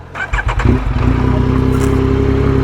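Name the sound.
motorcycle engine after switching motorcycles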